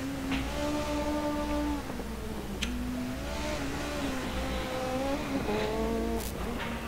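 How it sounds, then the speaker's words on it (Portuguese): A Ford Escort MK2 racing car in a driving video game, its engine revving steadily up and down through gear changes with brief tire squeals, loud and continuous with no talking. "Esse carro chama Ford Escort MK2."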